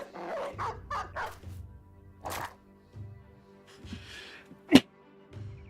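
Dogs barking and yipping in the video game Battle Brothers, several short barks in quick succession near the start, then scattered yelps and a sharp thud amid battle sounds.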